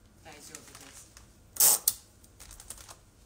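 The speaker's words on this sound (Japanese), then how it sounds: "まっすぐジョキンと切ります。" Scissors make a crisp, loud snip straight through a bundle of flower stems, with a second quicker cut just after, amid quieter small handling clicks.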